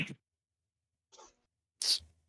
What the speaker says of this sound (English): Sorry, that was me sneezing.